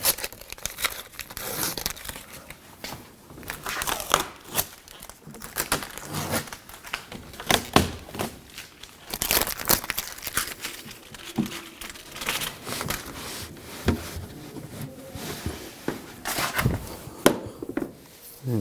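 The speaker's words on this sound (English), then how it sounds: "take the tape off." Tape is peeled off a 2011-2018 Ram 1500 front door in irregular, close crinkling and tearing bursts, with scattered sharp crackles and pauses.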